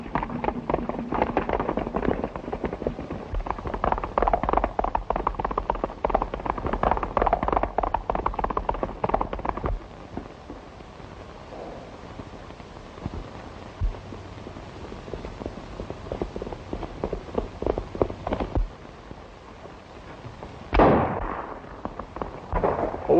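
Gunshots in a black-and-white western film ring out as sharp cracks over galloping hooves and a rumbling soundtrack. One louder shot stands out near the end.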